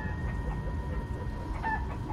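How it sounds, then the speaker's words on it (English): Chickens cluck softly in Minecraft: Story Mode, with brief, faint calls rising above a steady low rumble for about two seconds, no talking. "we are in the land of chickens that are indeed the size of zombies"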